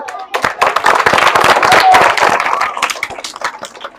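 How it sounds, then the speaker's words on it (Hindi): Close, loud clapping from an audience at a school Independence Day event, with individual sharp claps swelling into a burst and then thinning out toward the end. "ताली बजा।"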